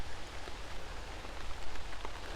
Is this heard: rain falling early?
yes